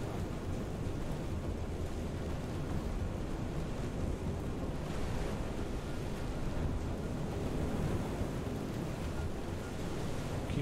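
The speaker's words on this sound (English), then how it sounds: "We're getting some big waves now." Big ocean waves crash and churn in FAR: Changing Tides, a continuous loud roar of surf and wind with no breaks, steady throughout and without any voices.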